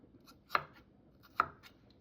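A knife chopping vegetables such as tomato and onion on a board while cooking ackee and saltfish: two sharp, separate cuts about a second apart, close and quiet, with no talking.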